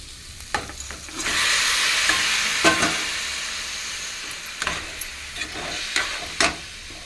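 Onions and chicken sizzle and fry in a pan on a home stove, a steady hiss swelling after the first second, broken by several sharp clinks and scrapes of stirring, close up with no talking.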